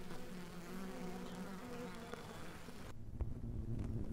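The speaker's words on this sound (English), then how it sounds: "you're also going to hear what it's like to have honeybees all around you" Dense, steady buzzing of many honeybees close all around from inside a bivouacking swarm cluster, a continuous drone with no talk and slight swells in loudness.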